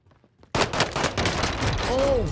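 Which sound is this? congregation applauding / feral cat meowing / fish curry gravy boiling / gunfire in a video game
gunfire in a video game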